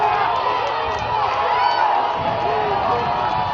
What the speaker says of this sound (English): And this Wesleyan crowd is fired up.